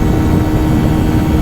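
A 2026 QJ Motor SRK 125S, a 125cc single-cylinder naked motorcycle, held at full throttle on the road, its engine droning loud and steady with heavy wind rush throughout, recorded close on the bike.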